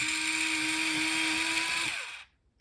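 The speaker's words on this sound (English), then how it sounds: "I may need to sharpen this a little" A green colored pencil ground in an electric sharpener, a loud steady motor whine close by for about two seconds before it cuts off and winds down to silence.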